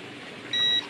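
A steady high electronic beep from an Eachine E520S GPS drone, a Mavic 2 clone, sounding once for about a quarter second after compass calibration, over a faint background hum.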